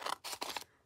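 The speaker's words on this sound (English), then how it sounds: "I'm just gonna cut the end off again." Scissors snip the end off a paper craft tag, a couple of quick, crisp close cuts in a quiet room.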